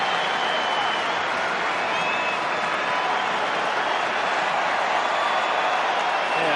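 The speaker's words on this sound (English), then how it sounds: "the crowd is showing their appreciation of David making that journey all the way from the States just to be here tonight" A huge football stadium crowd at a Manchester United versus Juventus match applauds David Beckham, a constant, roaring wall of clapping and cheering that stays loud and unbroken throughout.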